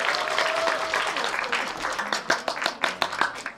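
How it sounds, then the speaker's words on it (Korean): A crowd at an independent-film screening event with its directors and an actor claps warmly; the applause is dense at first, then thins into scattered, distinct individual claps near the end. "다시 한번 박수 부탁드리겠습니다."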